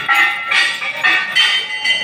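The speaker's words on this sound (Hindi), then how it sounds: "देखिए कितनी सारी घंटी इधर" Many bells ring at the Pauhari Baba temple in Rasepur Bongriya, Azamgarh, with overlapping metallic tones pulsing in repeated strikes at a steady rhythm, loud and close.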